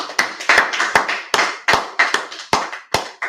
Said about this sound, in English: I'm going to clap it up.